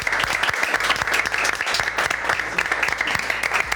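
An audience claps steadily for a contest winner, dense even applause throughout with no speech over it.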